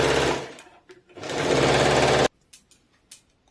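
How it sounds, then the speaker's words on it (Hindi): Electric sewing machine double-stitching palazzo fabric in two quick bursts of rapid whirring stitches close up, the second longer and cut off abruptly, followed by faint clicks and fabric handling. "अब इसको डबल सिलाई डाल देंगे"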